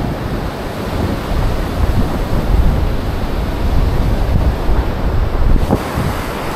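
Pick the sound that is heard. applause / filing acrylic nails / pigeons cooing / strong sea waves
strong sea waves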